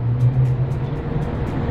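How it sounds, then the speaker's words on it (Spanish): Harry's car pulls up to a house, a close, steady low engine rumble over a short stretch with light ticking on top and no voices. "Ahí viene el carro de Harry."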